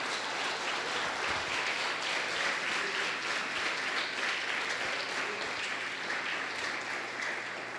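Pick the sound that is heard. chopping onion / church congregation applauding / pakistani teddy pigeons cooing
church congregation applauding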